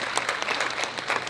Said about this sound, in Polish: Brawa dla pani.